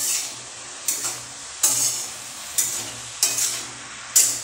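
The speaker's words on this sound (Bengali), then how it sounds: "বন্ধুরা এর মধ্যে অ্যাড করার পর আমি কিছুক্ষণ এটা নেড়ে নেব" Cabbage mixed with turmeric is stirred in a frying pan, a soft sizzle underneath and five or six separate scraping strokes of the spoon, spaced about a second apart, close and clear with no talk.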